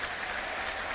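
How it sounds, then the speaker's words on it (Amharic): A church congregation at a prophet's gathering breaks into a short, even burst of applause from many people, moderately loud and unbroken. "ጭብጨባ አምጡ"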